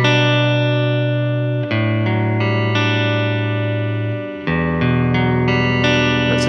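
Clean electric guitar chords ring out through a Fender-style amp with a touch of reverb, several sustained strums changing every second or so, with no voices.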